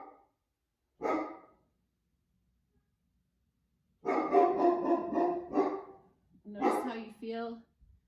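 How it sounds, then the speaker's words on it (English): During an indoor yoga class, dogs bark in a few close, distinct bursts, with a short yip early on, a longer run of rapid barks in the middle and a final pair, separated by near silence. "barking dogs in your yoga class"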